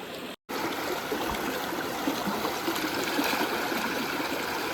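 Natural stream water runs and trickles continuously nearby, a steady broadband rush after a brief dropout at the very start, with no voices.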